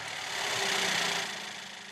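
A C300 convertible's engine rated at 180 kilowatts runs with a steady, close mechanical hum and faint knocking, swelling slightly midway and easing off over two seconds.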